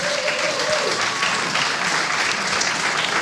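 An audience at the StarCraft 2 WCS Europe 2014 finals applauds loudly, with dense, sustained clapping throughout and no break.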